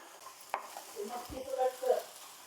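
Cluster beans stir-fried in a pan for a dry vegetable dish give a faint, soft sizzle and scraping stir, with one sharper knock near the start. The sound is brief and low in level.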